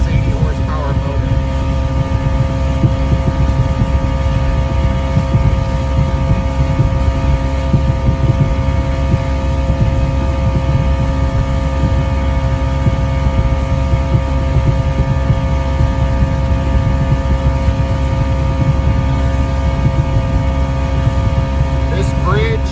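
An 80 horsepower outboard motor drives a classic boat at about 23 knots and 4,100 RPM on Puget Sound, giving a loud, steady, droning hum with constant wind and water rush and no break.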